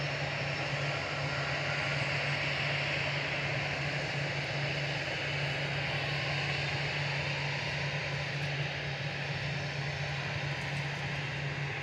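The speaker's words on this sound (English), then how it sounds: "EasyJet to Malta going next, flight 2273, a little A320 Classic" An EasyJet Airbus A320 Classic departing Manchester Airport for Malta, producing a steady, sustained jet roar with a low drone, heard from a distance and unbroken by talk.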